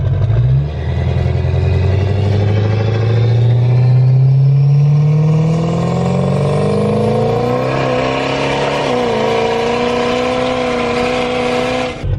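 A 6.0 Powerstroke diesel truck tuned to around 800 horsepower pulls hard from inside the cab, its engine note rising steadily through a long, loud acceleration with a brief shift partway and sustained roar throughout.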